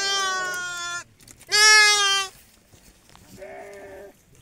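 Sheep bleating on a sheep farm in Nepal during wool shearing, with three distinct, loud, wavering bleats from close by, separated by short pauses.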